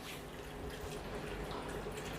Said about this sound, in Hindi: ये देखिए पानी आपने निकाल दिया।